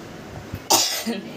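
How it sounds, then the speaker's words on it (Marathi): A single short cough, close and sharp, from biryani spice fumes after a moment of quiet room noise. "खोकला येतो त्याचा"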